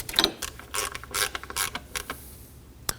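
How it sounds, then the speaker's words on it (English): A hand ratchet tightens three 10 mm bolts on the engine covers of a 2003–2006 Subaru Baja. It sounds as short bursts of close, crisp clicking with brief pauses between strokes, followed by one final sharp click. "Now we can run through and tighten down our three 10 millimeters."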